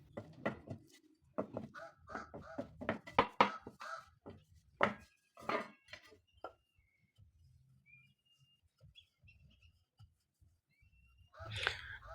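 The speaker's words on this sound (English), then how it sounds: "I'm using this bent scraper to cut my dough." A bent scraper cuts and taps through coconut scone dough in a burst of quick, close, sharp knocks and scrapes, then near silence with faint small sounds, and a last short burst at the end.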